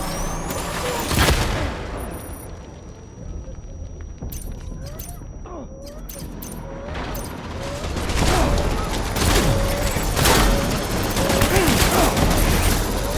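Gunfire rings out in the video game Death Stranding, with bursts of sharp shots and booms that cluster into heavy volleys near the end, set against mechanical clanks and battle noise.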